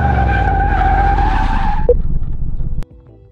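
Car tires skid loudly under a hard brake test in the video game Car Mechanic Simulator 2018, a steady screech over engine drone that cuts off abruptly near the end.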